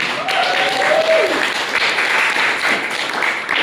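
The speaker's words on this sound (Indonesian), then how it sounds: "Beri tepuk tangannya dulu dong." Loud, sustained applause from university students in a class fills the whole stretch, with a short voice-like tone rising briefly above the clapping early on.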